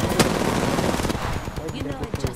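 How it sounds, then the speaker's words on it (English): Rapid automatic gunfire in the video game Apex Legends, a dense close burst of shots early that thins to scattered pops, with a voice talking over it in the latter half. "I'm spotted, taking fire."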